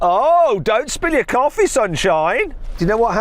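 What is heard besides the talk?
No distinct noise like a dog, phone or traffic.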